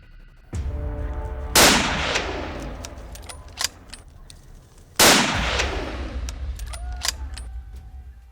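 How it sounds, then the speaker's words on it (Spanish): Two loud gunshots ring out several seconds apart outdoors at a wild boar hunt, each with a long echoing decay, with faint rustling and clicks between. "Primer disparo errado que ha servido para rectificar un segundo que ha dejado en el sitio al cochino."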